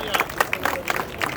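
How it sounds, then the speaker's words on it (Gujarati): A crowd claps for a doctor introduced at a Kali Chaudas night gathering against superstition, a short scattered burst of applause with loose individual claps over a murmuring audience. "ડૉક્ટર મોરજીભાઈ માટે એકવાર તાળી થઈ જાય."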